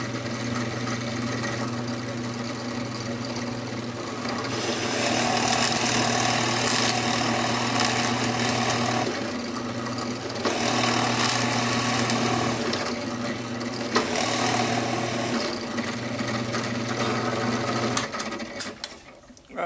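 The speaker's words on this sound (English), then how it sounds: "I'm going to drill a 5/8 hole right on that mark." Drill boring a 5/8 hole through wood with a Forstner bit: a steady motor whine with a constant hum, swelling louder as the bit bites in and easing off between passes, ending with a few clicks.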